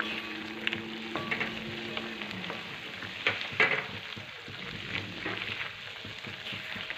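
Beetroot for halwa simmering in milk in a pan, a steady close sizzling bubble with a few soft scrapes and clinks of stirring, no voices.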